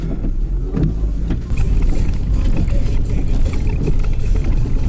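A BMW car engine runs steadily after being started in reverse, a continuous low rumble close to the microphone with some wind noise and no talk.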